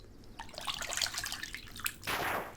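Splashing, dripping water effect for the Pokémon move Water Pulse, a busy watery gurgle throughout that swells into a louder rushing burst near the end, with no talking.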